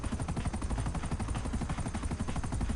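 A steady, dense mechanical rotor chop from a helicopter in GTA 5, loud and continuous with a rapid pulsing beat throughout.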